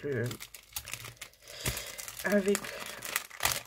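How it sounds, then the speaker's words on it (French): Textured green paper with small inclusions crinkles and rustles as it is handled, in close, uneven bursts, with someone speaking French over part of it. "Donc c'est du papier texturé vert."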